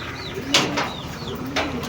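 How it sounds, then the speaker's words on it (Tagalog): Racing pigeons coo softly in a loft, a few low repeated coos close by with brief wing flutters and faint chirps, with no talking. "So eto ngayon yung mga ibon natin."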